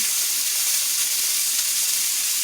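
Steak searing in a hot pan gives a loud, dense, continuous sizzle close by, steady and unbroken from start to end, with no voices.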